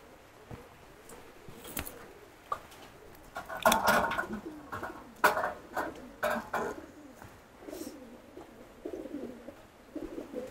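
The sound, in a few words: pigeons cooing in a breeding room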